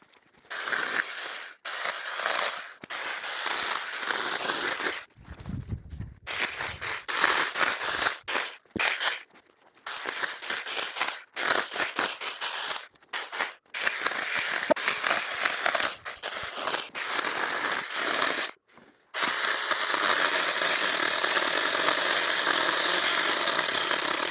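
A Saker mini chainsaw buzzes through wood on a farm in repeated bursts, the motor revving and dropping with short gaps between cuts, close and loud.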